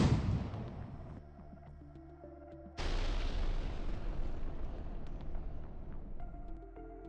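A Russian artillery strike explodes on a target as a deep, rumbling boom with a long decay, then a second heavy blast follows, with distant rumbling throughout.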